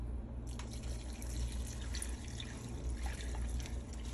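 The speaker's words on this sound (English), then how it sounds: "I'm gonna add 4 cups of water." Water pours into a large pot for creamy broccoli cheddar soup, a soft continuous splashing and trickling with occasional drips, fairly faint and close.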